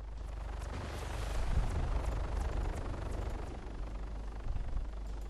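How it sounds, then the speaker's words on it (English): Helicopter in the video game Arma 3, a steady low rotor and engine rumble holding close and loud throughout with slight swells, no talk over it. "Get out from the chopper."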